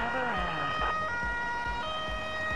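Emergency vehicle siren in the video game FireFighters 2014, a steady wailing tone with clear harmonics, fairly loud and continuous, alongside low engine rumble and occasional thumps.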